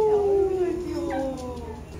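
A small dog whimpers and howls in a long, falling, plaintive whine, close and fairly loud, trailing off into softer cries, with a person's voice faintly present.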